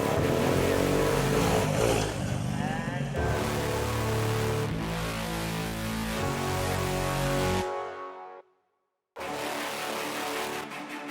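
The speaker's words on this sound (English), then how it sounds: "The NSF is a keyless bike, so you have to push start it to get it going." A Honda NSF racing motorbike being push started, its engine catching and revving loudly in bursts, then cutting out briefly before firing up again, with other race bikes audible around it.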